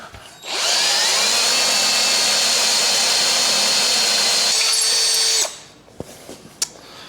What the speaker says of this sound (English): Bolts are drilled through.